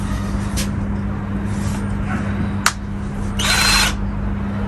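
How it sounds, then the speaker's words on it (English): A new jigsaw cutting pieces down to size gives a steady, close motor drone with a low hum throughout, broken by a few short, sharp bursts and a brief louder rasp near the end. "I've never used my new jigsaw."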